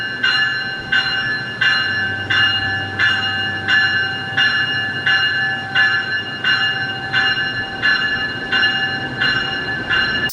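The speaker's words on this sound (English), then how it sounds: "The distinctive North American train bell you can hear there as the train arrives at Aventura station" Clanging North American-style bell on a Siemens Brightline passenger train arriving at Aventura station, a steady ringing strike roughly every 0.7 seconds, loud and close over a low rumble of the train.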